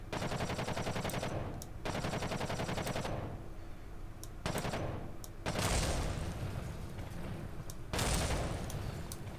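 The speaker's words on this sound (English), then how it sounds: "Let's just go shoot up some debris." Machine guns in Kerbal Space Program with the BD Armory mod fire on floating debris in loud, dense rattling bursts of a second or two each, separated by brief pauses, with no talking.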